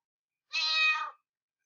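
An orange kitten gives one short, clear meow, faint and isolated in otherwise silent surroundings.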